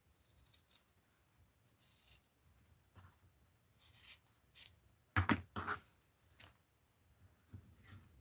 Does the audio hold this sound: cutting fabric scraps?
yes